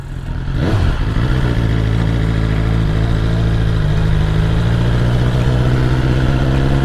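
A 2021 BMW S1000R sport motorcycle with a quick shifter pulls away on a ride, its engine droning loud and close with a steady, slightly rising tone after a short initial rev, no voices over it.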